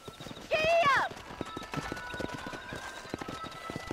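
Clip-clop of a horse's hooves in the Western video game Red Dead Redemption, a steady trotting rhythm with a brief whinny early on, under intermittent spoken dialogue.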